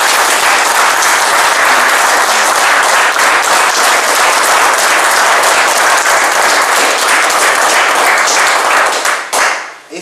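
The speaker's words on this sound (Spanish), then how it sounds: "Ahorita quiero escuchar un aplauso para ustedes." Loud, dense applause from a large audience honoring newly certified municipal police officers, sustained steadily for about nine seconds before abruptly cutting off.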